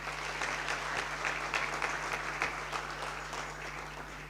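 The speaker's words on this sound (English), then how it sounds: "So a round of applause for Mpon Chabeleng." Audience applause at a public commemoration event for the Freedom Charter's 70th anniversary in Limpopo, a steady dense patter of many hands clapping throughout, with a low electrical hum underneath and no talk.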